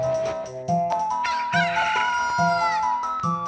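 A chicken in the Zelda: Ocarina of Time video game gives a drawn-out crow-like cackle over looping game music, with short clucks recurring at a steady beat.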